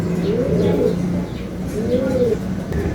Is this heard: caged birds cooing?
yes